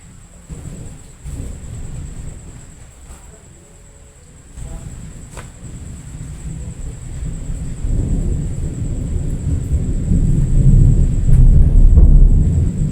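Loud thunder from a sudden big storm rumbles low and heavy, building in intensity toward the end after a quieter middle stretch, with a steady faint hiss and a brief soft voice early on.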